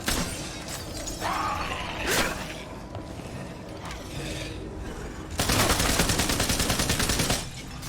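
Video-game gunfire rattles against zombies, with scattered shots and a closing sustained automatic burst, loud and near, with no talking over it.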